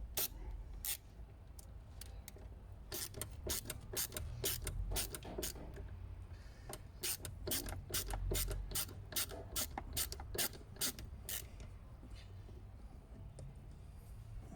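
Small metallic clicks and ratcheting ticks come from a screwdriver working screws loose while the door handles are removed from a BMW 3 Series E90. The sharp irregular clicks repeat over a low rumbling background with no speech.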